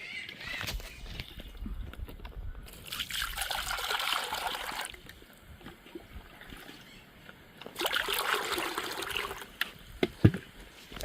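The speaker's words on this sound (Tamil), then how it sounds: "இந்த ஆளு சட்டிக்கையும் தண்ணி விடுவேன்" Water trickles and splashes into a container in a couple of bursts, with quieter dripping and handling noises between them.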